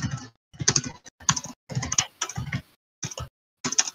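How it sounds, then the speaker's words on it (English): Keys tapped on a computer keyboard in short clustered bursts separated by brief pauses, clicking close and clear with no one speaking. "I don't want you to type on the keyboard how you're feeling"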